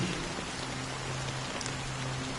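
Steady, dense rain falls in the video game Honkai Star Rail, a continuous wash of droplets at even loudness throughout with no voices.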